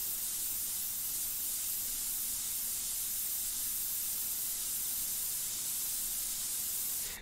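An airbrush sprays paint in one continuous, close hiss of even loudness that cuts off at the very end.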